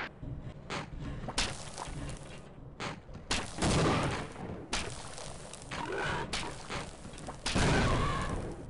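Enemy gunfire in the Half-Life chapter On a Rail, with rapid bursts of shots in repeated volleys that are close and loud, separated by brief gaps, and no talking.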